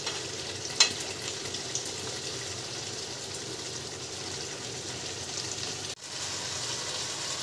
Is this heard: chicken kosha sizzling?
yes